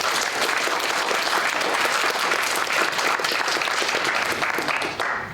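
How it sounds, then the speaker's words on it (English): Steady, dense applause from a quiz championship audience for the Oxford team, sustained at an even level throughout with no speech over it. "Round of applause for Oxford."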